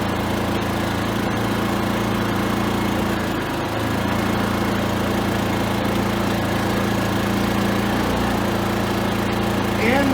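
A Predator 3500-watt inverter generator converted to run on propane hums at a steady, even idle close by, with a constant droning tone throughout.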